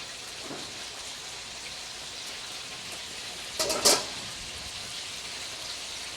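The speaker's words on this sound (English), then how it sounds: "next we're going to do our secondary frying of our onion, of our chicken" Chicken pieces and onion crackle steadily in hot oil during a second deep fry to crisp them, with a dense, even sizzle and one brief louder spatter burst partway through.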